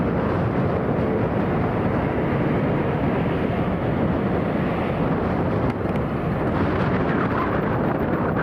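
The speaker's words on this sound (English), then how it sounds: "Seriously noisy, those Trent 700 engines" Airliner with Rolls-Royce Trent 700 engines departing London Heathrow on a windy day, a loud, steady broadband engine roar mixed with heavy wind buffeting on the microphone, no speech.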